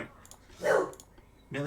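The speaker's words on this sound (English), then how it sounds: "shush. That's my dog, by the way." Millie, a pet dog, gives a short bark or yelp close by indoors, a brief burst between quiet gaps, with a voice speaking before and after it.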